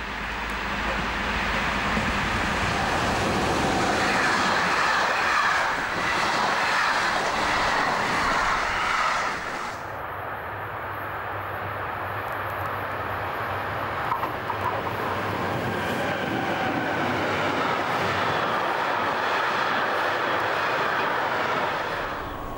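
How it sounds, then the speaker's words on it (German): A black Class 185 electric locomotive shunts toward its train at Groß Corbeta, giving a continuous low rumble and hum that holds steady for over twenty seconds, with a change in tone partway through. "Eine schwarze 185er rangiert zu ihrem Zug."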